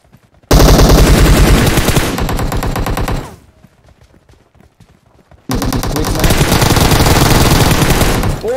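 Automatic gunfire from the battle royale game PUBG rips out in two loud, close sustained bursts, separated by a quieter gap holding a few scattered shots.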